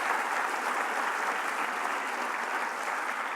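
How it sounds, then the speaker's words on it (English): Audience at a university event with the Dalai Lama applauding a performance by Tibetan students, a steady, even roar of many hands clapping at moderate distance, continuing unbroken. "Can we have a big round of applause for them?"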